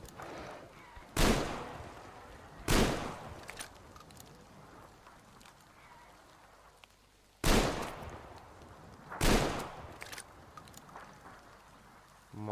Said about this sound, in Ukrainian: мабуть, я тільки ото набої витрачаю, туди шмаляю